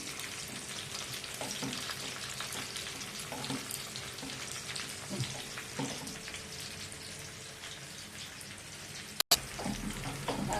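Steady hissing and crackling of eggplant frying in hot oil, fairly quiet and continuous, with a sharp click near the end.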